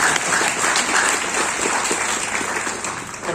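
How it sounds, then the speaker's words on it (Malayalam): Audience applause fills a talk event, a dense, steady clatter of many hands clapping close by for the full few seconds with no voices over it. "ആർക്കൊക്കെ കയ്യടി കൊടുക്കണ്ടേ?"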